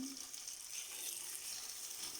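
Potato batter crackles and sizzles steadily in a hot oiled frying pan, a bright continuous frying hiss with no voices.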